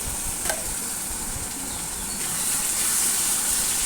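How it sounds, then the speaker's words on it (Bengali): Masala with a little sugar stir-fried in a pan for a soybean muitha with potato and eggplant: a steady, close sizzle with soft spatula scrapes running throughout, and no voices. "চিনি দিয়ে একটু নাড়াচাড়া করে আমি মশলাটা কষিয়ে নিচ্ছি।"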